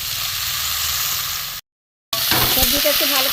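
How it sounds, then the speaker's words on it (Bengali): Ridge gourd, broad beans and potato frying in a pan with onion and tomato for a light fish curry; a steady sizzling hiss, a short gap of silence, then louder crackling and stirring close up. "সবজিটা একটু ভালো করে ভেজে নিই।"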